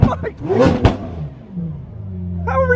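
A sports car engine at an outdoor car show, a loud deep roar rising and falling as it revs, close by, with people talking over it.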